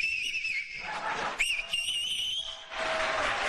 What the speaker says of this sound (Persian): داره سوت میزنه.